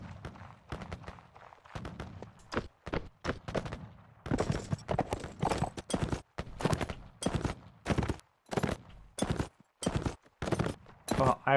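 Clip-clop of horse hooves in the strategy video game Caribbean!, a fast series of sharp hoof strikes building into a steady beat, mixed with other game effects and some talk.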